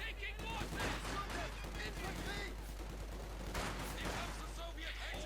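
MG42 machine gun fire in Company of Heroes 2 sits faintly in a busy battle mix of scattered gunshots, mostly under a caster's steady commentary.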